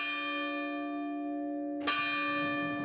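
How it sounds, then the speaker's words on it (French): Large bells of the Rouen Cathedral tower, one strike ringing with a long, resonant decaying hum before a second bright strike sounds near the end, clear and alone. "Cette tour renferme 55 cloches."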